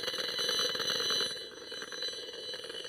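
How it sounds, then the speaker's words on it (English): A radiation meter gives a continuous electronic crackle and buzz with rapid clicking and a steady high-pitched tone, loud and close, briefly dipping before resuming. "So this is a radiation meter."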